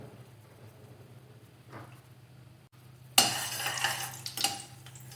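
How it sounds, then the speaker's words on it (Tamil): Whole spices and cashews (bay leaf, cinnamon, cloves, star anise) hit hot oil in a pan for mushroom biryani, starting with quiet stirring and a soft scrape, then bursting into a loud, steady sizzle with crackles. "பிரியாணி இலை பட்டை லவங்கம் அப்புறம் ஸ்டார் முக்கு அன்னாச்சி பூ முந்திரி பருப்பு எல்லாம் போட்டு ஃப்ரை பண்ணுவோம்"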